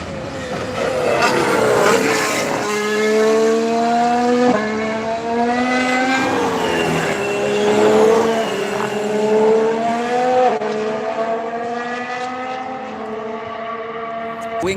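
Formula 1 race cars screaming past at a turn as an Alpha overtakes a Ferrari, loud high-pitched engines rising and falling in pitch through gear changes, close and continuous with overlapping cars.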